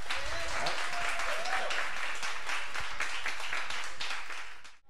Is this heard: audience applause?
yes